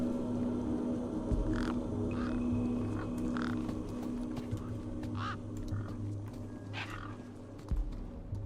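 Several birds cawing in the game Beyond a Steel Sky, harsh calls repeating irregularly over a low steady hum, each caw short and fairly near.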